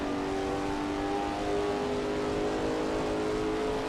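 A Lola T70 MkII Spyder race car in a racing video game roars at Spa through Blanchimont, a steady loud engine drone holding a sustained high-revving tone throughout, with no talk.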